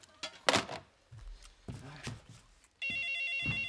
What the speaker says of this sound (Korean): 네, 전화 왔습니다.